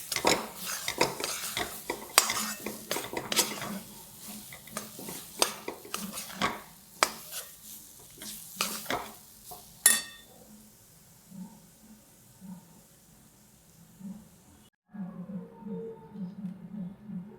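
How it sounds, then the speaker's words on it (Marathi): A spoon stirs moong dal halwa in a pan over a low flame, making clinks and scrapes against the metal for about ten seconds before things go quiet, leaving only a faint low hum. "मी चांगलं हलवून घेते"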